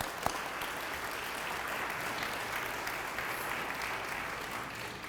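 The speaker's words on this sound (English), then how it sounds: "ask you to give applause" Sustained applause from an audience at an appreciation luncheon, honoring the family of Jackie Matheny; steady dense clapping with no talk, filling the room evenly.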